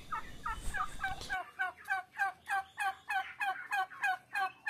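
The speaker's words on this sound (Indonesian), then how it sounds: "Kita lihat ini adalah kalkun usia 5-6 bulan" Five-to-six-month-old turkeys in a pen gobble in a rapid, rhythmic series of warbling calls, loud and close, with a noisy rustle at the start before the gobbling continues alone.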